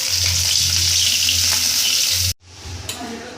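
Potatoes go into hot oil where fish was just fried, making a loud, dense crackling sizzle that cuts off abruptly, then returns quieter with a few stirring clinks, heard close and alone.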